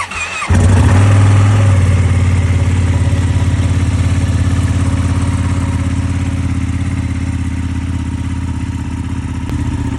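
A sport motorcycle engine with stock exhaust cranks and fires up after a short whir, then settles into a loud, steady, throbbing idle close by.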